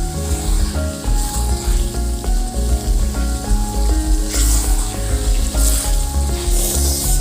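Sambal roa made with ground roa fish fries loudly in a pan, a dense continuous sizzle with steady scraping and stirring strokes close up.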